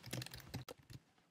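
Quick keystrokes on a computer keyboard while entering text into a weekly calendar table, a short burst of close, light clicks followed by a couple of isolated taps.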